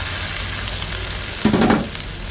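Bitter gourd (ampalaya) tossed into a hot pan for ginisang ampalaya, a steady background sizzle of frying that swells into a louder, brief crackle and stir as the vegetables hit the oil.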